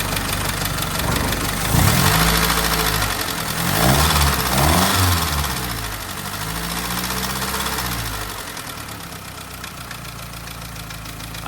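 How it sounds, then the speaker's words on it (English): Freshly rebuilt Flatfender Jeep engine idling nearby, with a slight exhaust leak and valves needing adjustment; its rough running and knocking rise in a couple of brief revs before settling back to a steady idle. "the engine is back in the Jeep, and it is running"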